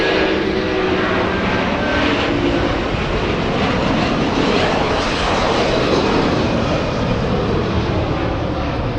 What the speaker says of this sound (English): Damn aircraft noise.